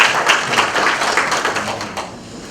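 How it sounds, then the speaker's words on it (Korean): Applause from delegates at a union's regular delegates' meeting, a dense close patter of many hands clapping that fades slightly toward the end. "박수 한번 해주십시오"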